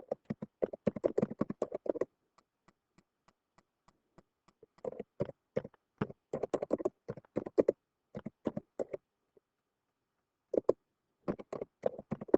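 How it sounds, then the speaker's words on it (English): Typing on a computer keyboard while writing quiz directions, quiet clusters of rapid key clicks broken by short pauses, close and alone. "for this one I'm going to have to type the directions."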